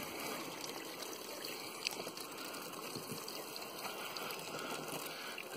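Water streams steadily from a narrow-angled shower head, a constant hissing gush with no breaks, fairly close and moderately loud.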